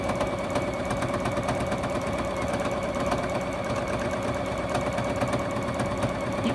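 A sewing machine, a Juki set up for free motion quilting, runs steadily for several seconds, its fast mechanical stitching rhythm a continuous whir with no pauses and no voices.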